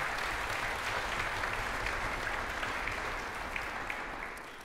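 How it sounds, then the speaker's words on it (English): Sustained audience applause for student musicians at a college wind ensemble concert, a dense, steady wash of clapping that holds evenly throughout and fades slightly at the end. "a round of applause for the students"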